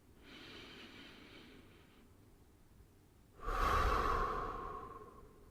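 Breath exhaled slowly through the mouth during a relaxation breathing session, a soft airy release followed by a longer, louder whooshing outbreath, close and alone with no talk.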